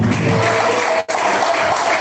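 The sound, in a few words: church congregation applauding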